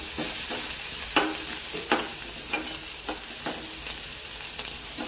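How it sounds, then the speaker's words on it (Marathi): Garlic and cumin sauté in a pan for a vegetable bhaji, with a soft steady sizzle broken by regular scraping stirs roughly every half second to a second, close and fairly quiet. "जिरे परतून झाले की आपण त्याच्यामध्ये लसूण टाकून घ्यायचं आहे। लसणाला छान असं परतून घ्यायचं।"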